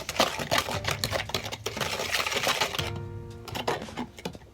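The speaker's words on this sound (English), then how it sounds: "So I'm going to stir this around." Plaster mix stirred in a bucket for a homemade mini metal foundry, close and fairly quiet, with irregular scraping and knocking strokes and small clatters that thin out toward the end, and no talking.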